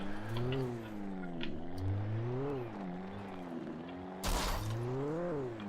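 A car engine in the video game Alan Wake revs up and down in repeated rising and falling surges. A sharp burst of tire noise cuts in near the end, with no talking.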